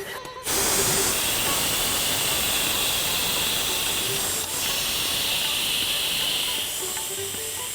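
A pressure cooker lets out a loud, sustained whistle of escaping steam as meat cooks, a steady close hiss that fills the whole clip.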